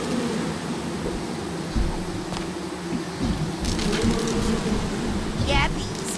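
Bees in the video game Psychonauts 2 swarm in a continuous, droning buzz that sits thick and close throughout, with game voices and effects layered on top.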